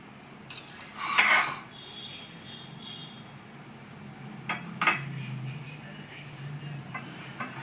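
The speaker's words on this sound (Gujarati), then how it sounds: "હવે તેને મિક્સ કરી આપીશું." A spoon mixes cheese pav filling in a bowl, with two short clinking bursts of metal on the dish over a low, soft stirring rustle.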